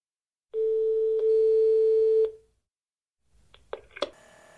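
Telephone tone heard while on hold on a vehicle rental company's answering line, a single steady pitched beep lasting under two seconds, followed after a pause by brief clicks and clattering tones.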